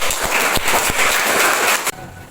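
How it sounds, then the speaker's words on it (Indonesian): A school history class clapping for group 2 after a presentation, lively close applause of many hands for about two seconds, cut off abruptly into quieter room tone. "Kasih aplaus ke kelompok 2."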